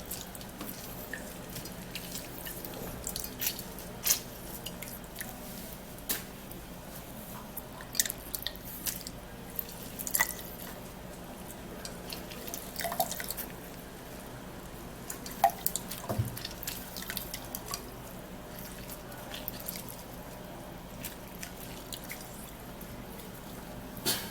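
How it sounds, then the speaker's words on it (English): Strained orange juice drips steadily through a sieve, a faint run of small wet drops and trickles with no talking. "our orange juice is sieved, strained, and I'm gonna be sieving it out equally"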